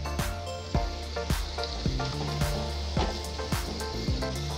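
Onion browns in hot oil with a loud, steady sizzle, crossed by a string of sharp clinks and scrapes from a utensil stirring the pan at a quick, regular pace.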